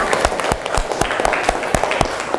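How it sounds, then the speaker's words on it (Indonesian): Loud, fairly sparse clapping from a classroom of students for a presenting group, individual claps distinct and uneven, close by with no talk over it. "tepuk tangan kembali untuk kelompok 3"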